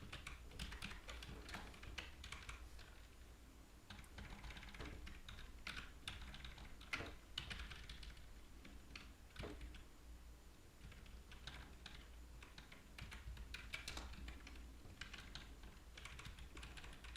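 Continuous rapid typing on a computer keyboard during C++ programming, a steady patter of quiet key clicks with occasional louder strokes, fairly close and with no one speaking.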